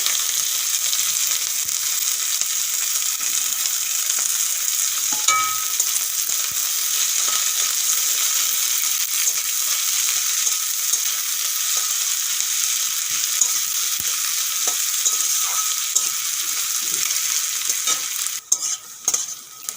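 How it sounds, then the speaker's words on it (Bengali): Sliced onions and two or three dried chillies fry in a pan with a steady, close sizzle lasting throughout, broken by scraping stirs, with no voices. "আর দিয়ে দেবো দু তিনটে শুকনো লঙ্কা কেটে রাখা পেঁয়াজ দিয়ে দেবো এখন"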